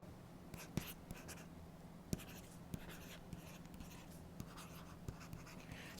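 A stylus scratches and taps across the surface of an e-ink tablet during note-taking, giving a steady faint friction hiss broken by small clicks and light tap accents, with no voices.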